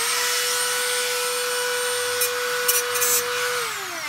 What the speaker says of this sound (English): See the Dremel?